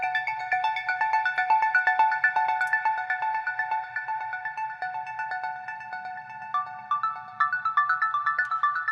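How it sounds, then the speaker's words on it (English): A simple, bright synth melody from a melodic progressive breakdown track plays as steady repeating plucked notes over a soft low pad, moving in a regular rhythm throughout. "I'm gonna skip right on over here to the melody."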